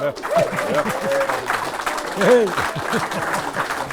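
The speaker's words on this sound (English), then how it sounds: "The round of applause is justified" Clapping from a live audience follows an Irish folk song, rising in a broad wash while voices talk and call out over it close by, swelling near the middle before easing.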